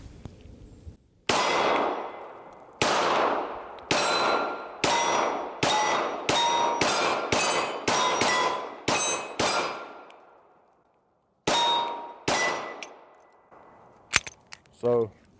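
Springfield Hellcat .380 pistol rounds striking steel targets at a range, a series of about fourteen sharp ringing clangs, each decaying quickly, coming in an irregular rapid rhythm with a brief pause near the end.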